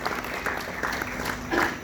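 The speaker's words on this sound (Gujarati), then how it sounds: "આપણે એમને તાળીઓથી વધાવી લઈએ" An audience claps together to welcome a guest at a Gujarati community gathering, a steady, dense patter of many hands that holds for the whole stretch and swells slightly near the end.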